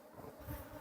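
Dense, steady buzzing of many honeybees at an opened beehive, close and continuous for a brief moment with no voices.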